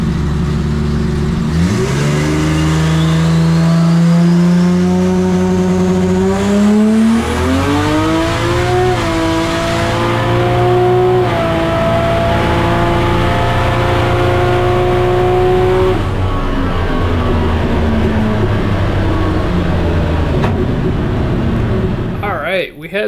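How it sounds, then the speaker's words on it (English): A Toyota Supra drag car launches and accelerates hard down a quarter-mile strip, its engine note rising steadily through gear changes, loud and close, with a crowd and voices around it. "The car went a 935 at 153 miles per hour"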